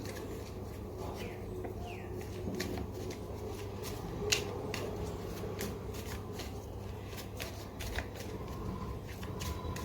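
Tarot cards being shuffled by hand, a run of crisp riffles and soft flicks repeating through the stretch, close and fairly quiet over a low steady background hum.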